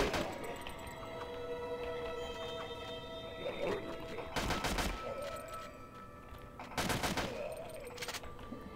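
Two loud shotgun blasts ring out in the Deadly 30 video game, each a broadband burst with a short decaying tail, spaced a couple of seconds apart over a steady humming game soundscape.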